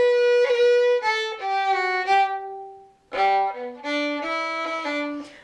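A fiddle plays part of an Irish tune, bowing clear melodic notes that end in a short pause, then resume with a new phrase. The playing is close, bright and solo, with no voices.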